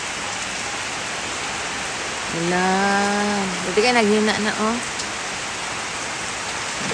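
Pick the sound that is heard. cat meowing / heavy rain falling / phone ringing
heavy rain falling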